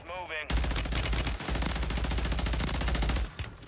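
Gunfire in Warzone 3 on Rebirth Island, from a one-shot Reclaimer 18 shotgun set up for sniping: a sudden loud blast opens a dense, sustained burst of shots, then it cuts off with a brief tail at the end.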